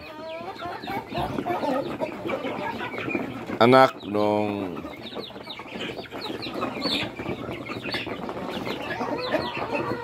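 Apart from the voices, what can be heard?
turkeys clucking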